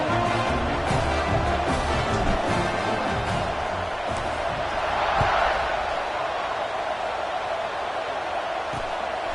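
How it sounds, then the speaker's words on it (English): Football stadium crowd at a Broncos versus Bears game buzzing after a score, a dense continuous roar of many voices at steady loudness, with faint thuds scattered through it. "this crowd is buzzing after that last score"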